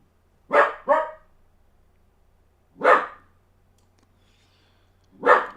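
A dog barks three times in separate bursts, a quick double bark followed by two single barks, fairly close with quiet pauses between.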